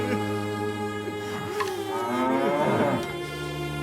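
Oxen low several times, their drawn-out moos rising and bending in pitch, clear and fairly close over a steady background hum.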